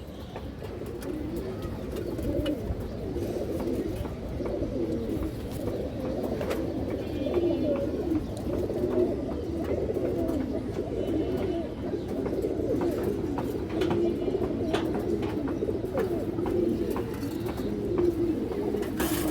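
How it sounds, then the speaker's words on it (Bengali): Pigeons of high-flyer, racing and colour breeds at a seller's stall, cooing softly and repeatedly in a steady low murmur with little else. "অনেক সুন্দর একটা কবুতর"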